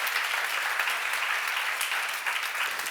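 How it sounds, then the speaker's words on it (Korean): Dense, steady applause from a church seminar congregation fills the room, continuous and fairly loud for the whole stretch with no talk on top. "박수!"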